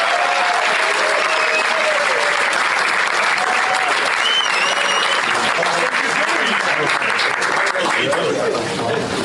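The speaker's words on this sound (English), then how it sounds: "Please give a warm round of applause for our good friend, Mr. George Takei." Loud, sustained audience applause fills the room for George Takei, dense and steady for about nine seconds, with faint voices and whistles scattered through it.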